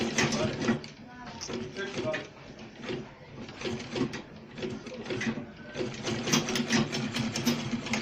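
A sewing machine stitching Ankara fabric for a gladiator sandal, a continuous, close mechanical whirr with rhythmic needle chatter and a voice talking over it.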